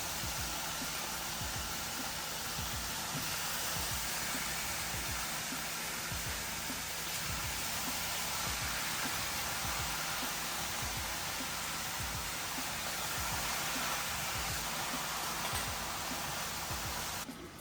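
Small beef steaks fry in a hot pan with a steady, dense sizzle that runs unbroken throughout at moderate level, with no talking.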